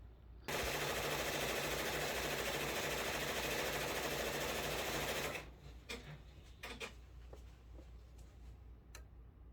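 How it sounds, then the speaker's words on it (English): A 10-needle embroidery machine stitches in a rapid, steady mechanical chatter for about five seconds, then stops, leaving scattered light clicks and handling sounds. "I had my my 10 needle going. I turned it on."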